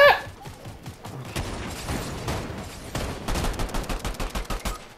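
Fortnite gunfire in a chaotic match, with dense automatic bursts and a fast string of sharp shots near the end, loud and close against steady game noise.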